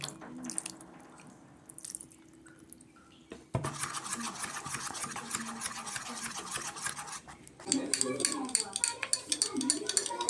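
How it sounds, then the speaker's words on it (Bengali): Rice flour and coconut powder are worked into a paste with lukewarm water, giving quiet scraping at first, then busier wet stirring and clinking against a bowl that grows louder toward the end. "এখন এটাকে হালকা গরম জলে একটু একটু করে পেস্টটা করে নেব।"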